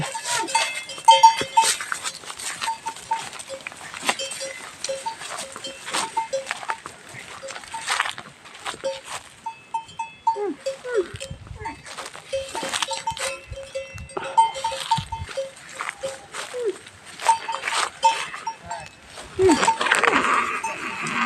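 On a farm, water buffalo and cattle move about, with bells clanking unevenly throughout and occasional animal calls, while people talk nearby across the whole stretch.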